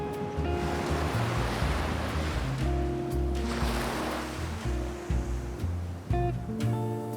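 Ocean surf rolls and washes continuously on an island coast in Oman, with a low rumbling wash and wind noise, steady and fairly loud, no voices.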